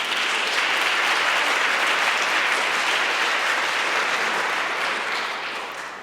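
An audience at a youth prize ceremony in Aachen gives a sustained round of applause, dense and loud for about five seconds before gradually fading.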